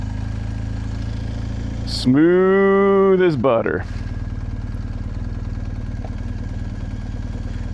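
Motorcycle engine pulling away uphill from a hill start, its steady idle rising to a louder rev for about a second before easing back, with someone talking over it.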